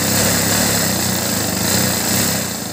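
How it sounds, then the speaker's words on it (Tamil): A sewing machine stitches blouse lining with a loud, steady motor whirr that runs unbroken and close-up, with no talking. "இந்த லைனிங் பீஸ் மேலே இப்படி வச்சு ஒரு அமுக்கு தையல் போடணும்."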